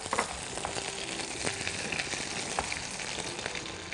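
Dry red chillies, slit green chillies, garlic and curry leaves sizzle in hot oil for a rasam tempering, a steady, even crackling frying hiss heard close with no talk.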